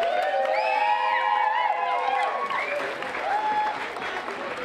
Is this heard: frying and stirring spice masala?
no